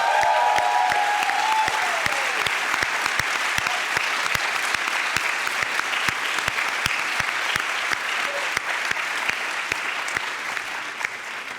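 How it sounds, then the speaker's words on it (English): Sustained applause from a graduation ceremony audience, dense steady clapping with sharp individual claps standing out, filling the hall throughout at a constant level. "give you a well-deserved round of applause"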